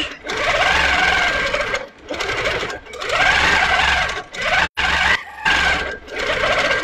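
A longarm quilting sewing machine stitches in steady, loud bursts of rapid whirring, pausing briefly between runs, with no talk over it.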